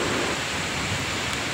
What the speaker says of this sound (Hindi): ये जो है ना बारिश हवा से उड़ रही थी